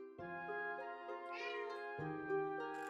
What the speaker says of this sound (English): Crying cat. Sad crying cats.